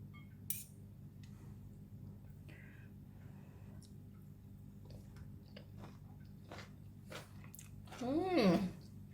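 Quiet chewing of a chicken and French bean stir fry with chilli bean paste and rice, soft crunches and squishy bites with a light cutlery click, close to the mouth, ending in a brief hum of pleasure.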